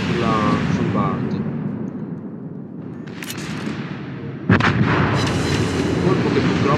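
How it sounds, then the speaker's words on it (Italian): The Italian tier VIII cruiser Amalfi firing its naval guns in World of Warships, with a deep rumbling boom followed by a sharper second salvo, loud and near over a constant low engine and sea drone. "Qui noi proviamo un altro colpo sulla Jumbart."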